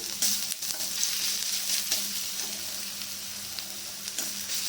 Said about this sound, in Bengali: পেঁয়াজটা ভাজা হয়ে গেছে আর ভাজবো না এর মধ্যে রসুনটা দিয়ে দেবো